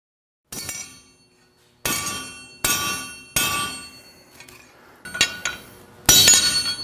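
Six heavy hammer blows ring out on stainless steel sculpture, each a sharp metallic clang with a bright, lingering ring, spaced about a second apart.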